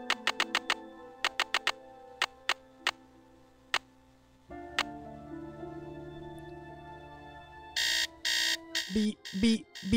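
An alarm clock in the Nancy Drew game Secret of the Scarlet Hand sounds in crisp repeated beeps in uneven bursts, followed by a low hum and a loud buzzing stretch near the end.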